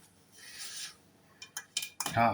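Stuck baked dough is scraped off a baking tray in short rasping strokes, first a longer soft scrape, then several quick sharp metallic scrapes close by.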